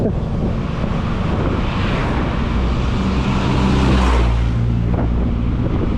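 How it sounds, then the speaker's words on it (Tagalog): Strong wind by the shore in Boracay roars and buffets steadily, rumbling low and gusting, with no voices. "Malakas ang hangin sa tabi."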